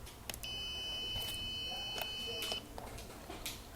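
A high electronic buzzer on an Arduino gas sensor sounds one steady tone for about two seconds, near and fairly clear over faint background noise and small clicks.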